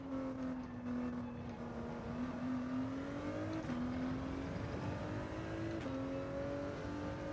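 Ford GT race car in Gran Turismo 7 on Sardegna Road A: a loud, steady engine note rising through the revs, with brief dips at each gearshift before the pitch climbs again.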